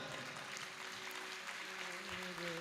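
An audience at a live Jain religious discourse claps in a sustained, dense patter of many hands, faint and distant, continuing evenly without a voice over it.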